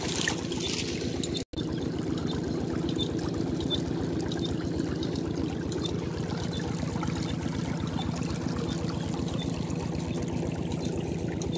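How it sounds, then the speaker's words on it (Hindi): Irrigation water pumped from a tube well rushes through a field channel for a rice crop in rural Punjab, Pakistan, a loud, steady, close pouring roar that runs throughout. "इतना तेज़ भाग भाग के जा रहा है पानी"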